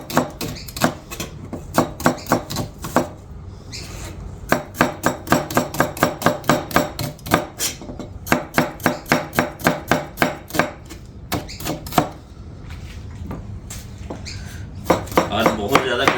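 Knife chopping onions and tomatoes roughly on a cutting board, quick rhythmic runs of sharp taps broken by short pauses, close and loud, with occasional talk between runs.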